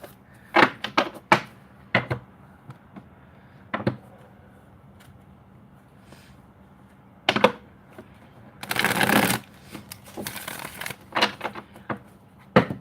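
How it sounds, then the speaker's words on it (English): Tarot cards shuffled by hand, several short crisp riffles and taps spaced apart, with one longer continuous riffle near the end, close and otherwise quiet. "Let me shuffle."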